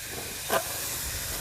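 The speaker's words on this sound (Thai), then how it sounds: "นี่ ใช้เตาแก๊สนะครับ" A gas stove burner hisses steadily beneath a heat-retaining cooking pot in an outdoor garden, with one short, brighter hissing burst near the middle over the low, constant rush.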